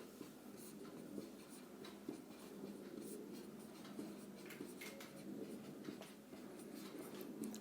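Pen writing on paper during a Class 10 math solution, heard as a continuous soft scratching with short strokes and brief pauses, close and quiet, with no talking.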